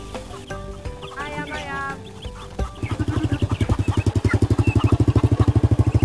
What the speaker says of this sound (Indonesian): Ayam.